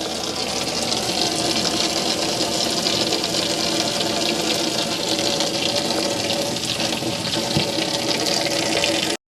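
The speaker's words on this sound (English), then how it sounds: "this is just to say that your water pump is working" Water runs from the shower in a Swift Escape 664 caravan while the water pump is tested, a steady close hiss of flowing water with a faint pump hum beneath, continuing evenly until it cuts off abruptly.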